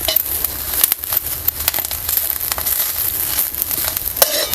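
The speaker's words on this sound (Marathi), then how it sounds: "हे मिरची परतून घ्यायचं आहे म्हणजे भाजायला पाहिजे पूर्ण असा" Green chillies and garlic frying in a pan for a traditional thecha, a loud close, continuous sizzle with crackling pops and stirring scrapes, with no talk.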